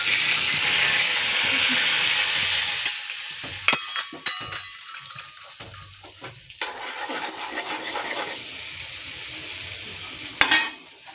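Hot cooking oil sizzles loudly in a pan on a home stove, a bright steady hiss that breaks off into crackles, spatters and clinks of utensils before the frying noise settles back in.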